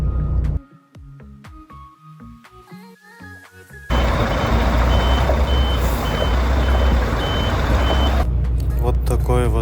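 Trucks queue on a road near Shalkar, Kazakhstan, with a string of sharp reversing beeps at first, then a loud, steady wash of nearby diesel engine and road noise.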